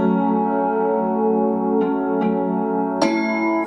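A bell-like synth rings over a sustained pad, with a few struck notes that decay with echoing repeats, fairly loud and unaccompanied by voices.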